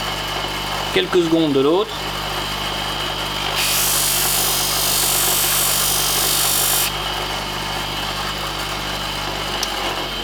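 A leather-working knife blade held in pliers against a spinning grinding disc, a steady high grinding hiss lasting a few seconds over a continuous motor drone, with someone speaking briefly just before.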